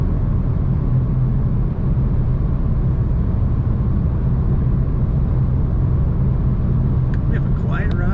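A 2022 Volkswagen Passat R-Line heard from inside the cabin, giving a steady, loud low engine and road rumble throughout with no sharp changes, as the car drives under way.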